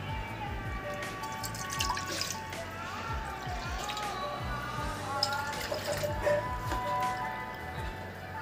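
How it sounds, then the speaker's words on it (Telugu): Water is poured from a cup into a pot on a lit stove, a faint trickling and dripping splash running under steady background noise. "ఈ కప్పుతో ఒక 4 కప్పులు వాటర్ పోసుకోవాలండి"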